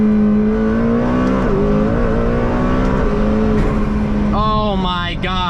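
McLaren Speedtail hybrid supercar accelerating hard, a loud, steady engine drone climbing in pitch and then a rising turbo whine and flutter near the end, heard close up from inside the car.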